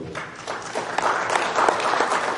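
A conference audience applauds in a sustained burst of clapping that swells slightly toward the end, moderately loud and without speech over it.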